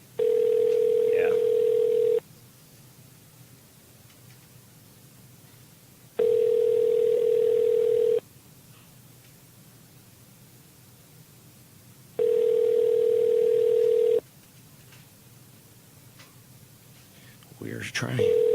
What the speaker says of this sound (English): I even let you hear the phone ring